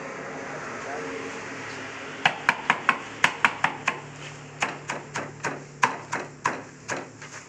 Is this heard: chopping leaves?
yes